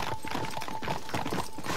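A horse galloping in the video game Red Dead Redemption, with fast, even hoofbeats pounding close and continuous over a low game backdrop.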